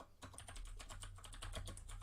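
Rapid typing on a computer keyboard, close and fairly quiet, with a quick run of clicky keystrokes over roughly two seconds.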